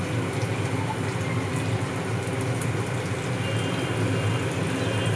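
Water poured into a cooking pot holding food seasoned with turmeric and salt, a steady broadband gush that runs unbroken for about five seconds at an even, fairly loud level with no voices.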